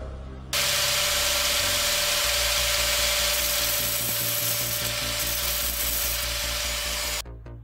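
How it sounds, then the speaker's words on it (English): Angle grinder held in a fixed position rounding off the corners of an airsoft rifle part (VFC HK416D), a loud, steady high-pitched grinding whine running continuously for about seven seconds before cutting off, with a low motor hum underneath. "I'm going to get the angle grinder locked in a certain position,"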